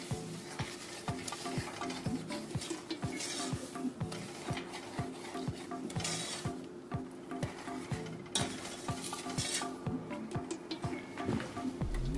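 Butter and granular sweetener melting in a pan for sugar-free toffee, with a steady soft sizzle under rhythmic scraping and clinking of a utensil stirring against the pan, close and continuous.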